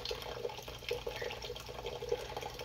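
Tap water runs steadily into a rubbery container for making coffee, a continuous splashing fill with small gurgles, close and moderately loud with no talking.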